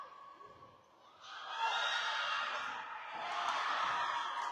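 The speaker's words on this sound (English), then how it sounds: "So much excitement from the crowd" Crowd at a girls' high school volleyball game between Benson and Bisbee, distant and fairly faint, swelling into sustained cheering and shouting after a quieter murmur at the start.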